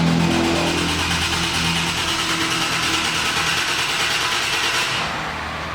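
A 3.7-litre VQ37 V6 in an Infiniti G37 with a manual clutch runs during a compression test, a loud, steady engine drone that eases off slightly toward the end.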